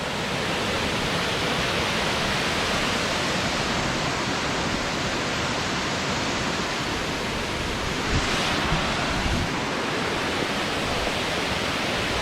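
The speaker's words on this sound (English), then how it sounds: "Much water's coming over that thing." Water pours over a dam at the Chattahoochee National Fish Hatchery, a steady, dense broadband rush that stays loud and unbroken throughout, with no voices.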